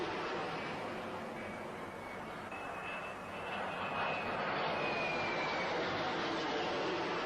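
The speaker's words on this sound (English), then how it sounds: "Every plane in the task force joined the raid, 12 from Hermes, 8 more from Invincible," Military aircraft from the task force fly overhead while forming up for a raid, a steady, distant droning engine roar that swells slightly toward the end, with no voices.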